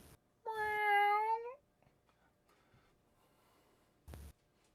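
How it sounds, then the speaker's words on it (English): One long, loud, drawn-out cat meow sounds up close, followed by near silence and a brief thump a few seconds later. "As you look at the feet of Tilda, you see just a ball of cat's legs and cat's paws rolling around her feet"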